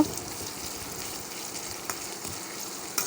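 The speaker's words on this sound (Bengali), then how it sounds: "পেঁয়াজটা আমি একটু হালকা ভেজে নিব" Onions frying lightly in hot oil for a chicken kosha curry, a steady close sizzle with soft crackles and occasional small pops, no talking.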